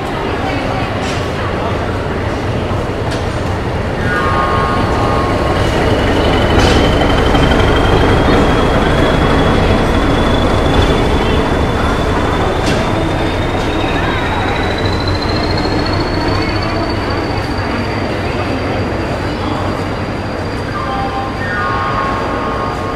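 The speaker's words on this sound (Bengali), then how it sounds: "ট্রেন আমাদের দিয়ে দিয়েছে ট্রেন নাম্বার 12347 শহীদ এক্সপ্রেস 6 নম্বর প্ল্যাটফর্মে।" Shahid Express train number 12347 at platform 6 of Howrah station, with a loud steady rumble of engines and station din, a long rising whine and a voice talking over it.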